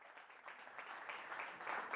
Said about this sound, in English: President and ESCO, keep clapping, keep clapping